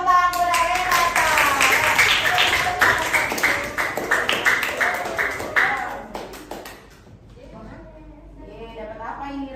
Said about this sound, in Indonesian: Berikan tepuk tangan kepada Renata.